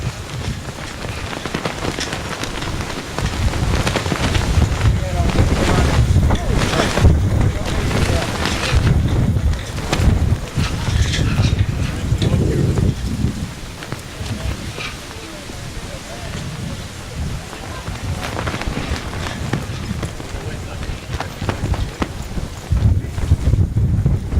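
Outdoors at a memorial ceremony for fallen service members in Oak Lawn, strong wind buffets the microphone in a heavy, rumbling roar that swells and eases in gusts, with faint voices mixed in.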